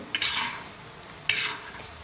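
Raisins roasting in ghee after cashews in a pan, two bursts of bright sizzling with stirring scrapes, each fading quickly, close and clear with no talk.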